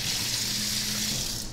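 Steady loud rush of water pouring from a kitchen faucet, a continuous gushing spray that holds level for the whole stretch with no voices over it.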